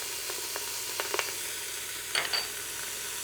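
Garlic sizzling in a soup pot for veggie soup: a steady close hiss of frying with a few faint clinks and stirring scrapes, no talk.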